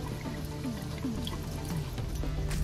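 Four cups of water poured into a cooking pot for boiling two cups of rice, a steady low trickling stream in a quiet kitchen with no talking.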